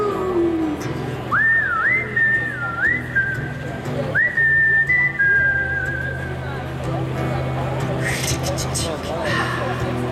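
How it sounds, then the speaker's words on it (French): A person whistles a short melodic phrase of a few sustained, sliding notes over steady background hum and murmuring voices, then the whistling gives way to continuing noise. "Je sifflerai des mots d'amour."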